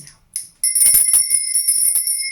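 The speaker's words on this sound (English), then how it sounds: "This is my lady bell. This is to cleanse the air around us." A small hand bell is rung to cleanse the air, giving bright, sustained metallic tones with a few short strikes, then a loud ring that keeps sounding close up.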